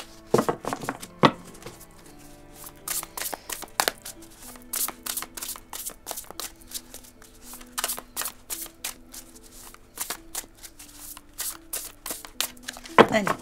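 Tarot cards are shuffled and drawn close up: quick riffling bursts and soft slaps of cards laid down, coming in clustered rhythmic runs, with someone speaking French between them.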